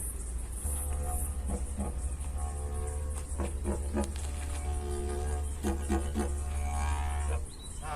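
A performer imitates an emu with a series of short, pulsing booms and grunts in uneven clusters over a sustained low drone, at an Aboriginal cultural presentation in Kings Park.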